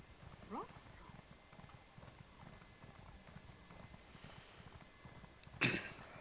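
Horse hooves clip-clop steadily in the video game Elder Scrolls Online while someone talks over them, and a louder burst near the end rises briefly above the rhythmic footfalls.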